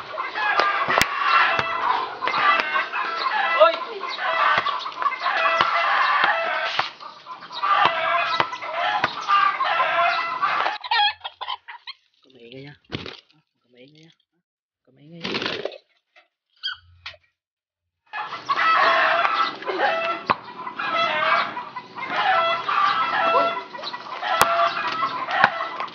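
Chickens clucking with a rooster crowing, the fowl sounds loud and busy for long stretches, dropping to brief quiet gaps before resuming.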